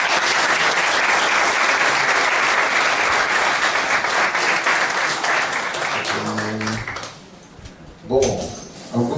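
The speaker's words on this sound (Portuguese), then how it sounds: "Salva de palmas." An audience at a Spiritist talk claps in a loud, sustained round of applause that thins out and fades near the end, leaving a few scattered sounds and murmurs.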